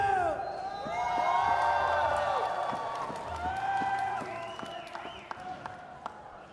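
A stadium crowd at a women's BMX freestyle park World Cup final in Bazhong, China cheers, whoops and applauds in a steady roar beneath a loud announcer's voice.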